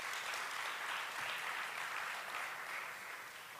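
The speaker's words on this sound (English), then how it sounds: "Can we please give him a round of applause?" A conference audience gives a sustained round of applause for an honoree introduced at a technology event, a dense, steady wash of many hands clapping that holds evenly and eases slightly near the end, with no talking.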